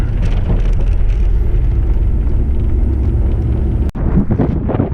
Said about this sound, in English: The wind is blowing out here.